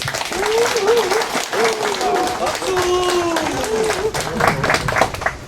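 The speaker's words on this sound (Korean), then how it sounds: "우리 조을래 조합장 성공하라고 박수 한 번 부탁드리겠습니다" An audience at a groundbreaking ceremony for a black pork processing and distribution center applauds the cooperative head, steady clapping running throughout while a voice speaks over it.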